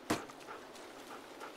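A dog in The Walking Dead video game gives one sharp whimper, followed by quieter panting and faint whines at low level.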